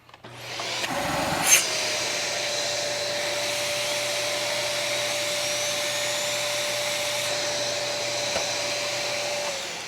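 Dyson Ball Animal DC39 upright vacuum cleaner switching on and running with suction, a steady loud whining roar with a high tonal motor whine, close and continuous after a brief startup thump.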